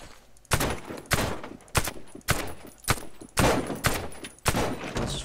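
Bursts of fully automatic fire from the FY 103 rifle in the video game Warface, about eight separate loud close volleys with short pauses between them.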